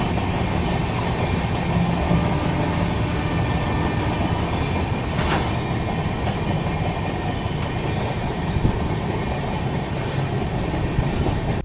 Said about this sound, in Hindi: कोटा जंक्शन से निकलते ही एक रिवर क्रॉस करती है ट्रेन।